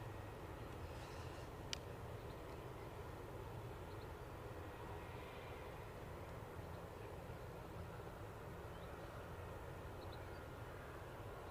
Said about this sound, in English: here's our inbound Loganair ATR